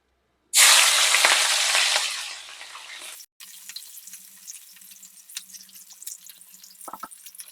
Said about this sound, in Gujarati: હવે આપણે મરચાં ફ્રાય કરી લઈશું. ચીલી ફ્રાય કરશું.